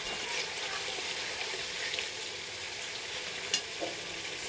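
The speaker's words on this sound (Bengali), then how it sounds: "মশলাটা ভালো করে কষবো।" Spice paste and chopped raw tomato frying and being stirred in hot oil for a chicken curry with potato and yogurt, a loud continuous sizzle with occasional scraping clinks from the stirring, no talking.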